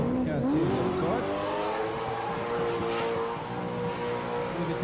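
A car does a burnout at Summernats 09 burnout eliminations, its engine revving loud and high with a wailing tire squeal over crowd noise, and a commentator talks over it.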